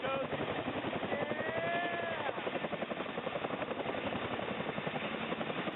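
A Chinook helicopter passes overhead, heard from directly beneath as a loud, steady rotor thudding and engine roar that fills the whole stretch, with people talking underneath.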